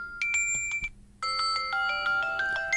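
Blossom ringtone from a Samsung Galaxy Watch 4, a bright chiming melody of clear bell-like tones in quick repeating phrases, with a brief pause before a fuller, layered second phrase; close and alone.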